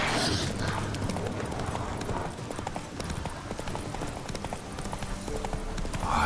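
Horse hooves clip-clop steadily at a moderate pace in The Witcher 3 video game, with a quiet ambient background and no speech.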